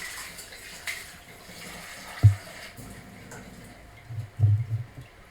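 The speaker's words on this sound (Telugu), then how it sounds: "ఇప్పుడు వాటర్ పట్టుకోవాలి." Tap water runs into a vessel holding cleaned goat intestines, a soft, low splashing trickle with a couple of louder gushes near the end, close and without talk.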